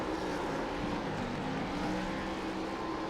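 Race car engine from a racing video game, a steady droning roar as the car does burnouts, heard at moderate distance with no voices.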